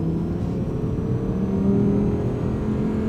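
The V10 engine of an Audi R8 V10 Performance Coupe quattro with S tronic, heard while driving as a steady low rumble with a slight rise in revs partway through, fairly loud and heard from inside.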